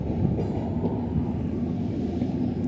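A train rolls steadily past on the Ramal G railway line, a loud, continuous rumble of wheels on rails close by with no pauses.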